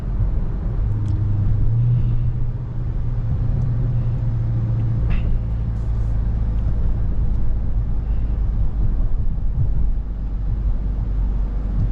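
A Dodge Charger Scat Pack sits with its engine at raised, steady revs while setting up launch control, giving a continuous deep drone with a low hum and faint wind buffeting.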